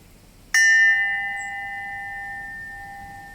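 A heavy metal wind chime hanging from a thread rings out with one sharp strike, then holds two clear sustained tones that fade only slowly over several seconds, close and alone.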